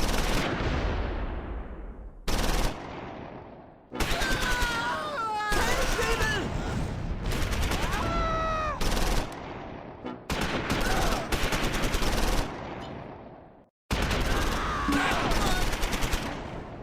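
Close Combat 4 battle at Wiltz in the Battle of the Bulge: dense bursts of rifle and machine-gun fire with heavy artillery impacts, broken by short gaps, with whistling tones rising and falling through the barrage.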